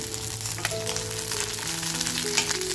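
Green chillies sizzle and fry steadily in a hot kadai, a continuous close crackle of oil in a rustic village-style kitchen, with a few faint stirring clinks and no talking.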